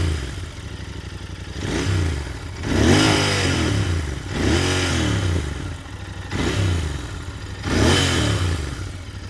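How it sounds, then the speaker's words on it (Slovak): A Royal Enfield Continental GT 650 parallel-twin motorcycle engine idles with a lumpy beat, then revs up in repeated swells, three or four throttle blips rising and falling close by. "Toto je krásny zvuk tohto paralelného dvojvalca."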